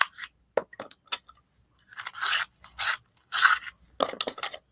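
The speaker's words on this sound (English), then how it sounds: "Let me just go ahead and sharpen a couple here that I might need." Colored pencils are sharpened by hand, giving several short gritty scraping bursts at close range, each separated by brief pauses, with faint clicks between them.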